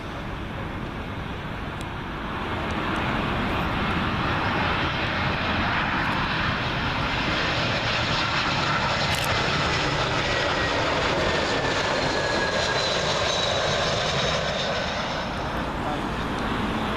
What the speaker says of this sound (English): Next arrival in, British Airways A320